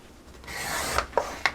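Card stock being cut by hand, a short rising scrape followed by three quick, crisp snips or clicks, close and fairly loud with no talking.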